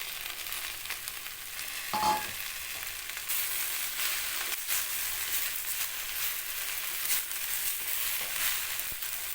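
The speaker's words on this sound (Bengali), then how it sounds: "ঢাকা চাপা দিয়ে ভেজে নেব" Chopped water spinach (kolmi shak) with turmeric frying in a covered pan gives a steady, dense sizzle throughout, with a brief utensil knock early on.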